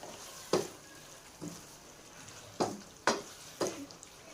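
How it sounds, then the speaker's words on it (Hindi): Chicken jalfrezi stirred in a frying pan, with five or six sharp spoon scrapes and knocks against the pan over a soft, steady sizzle, close by and without talking. "और इसको अच्छे से मिक्स कर लेंगे।"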